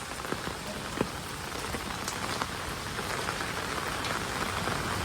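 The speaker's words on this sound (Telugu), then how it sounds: "బాగానే పడుతుంది వర్షం" Steady heavy rain pouring down on hard surfaces in Hyderabad lanes, dense and continuous, with occasional louder drops standing out from the constant hiss.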